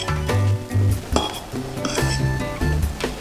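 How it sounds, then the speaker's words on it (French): A utensil stirs raw zucchini gremolata in a bowl, making repeated close clinks and scrapes against the dish, with a soft tonal background beneath. "Et on mélange tout ça."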